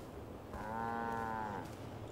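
A cow lets out a single long, drawn-out moo on a farm, fairly close and clear over quiet outdoor background, with no talking.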